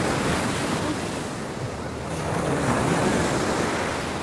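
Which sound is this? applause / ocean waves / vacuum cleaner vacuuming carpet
ocean waves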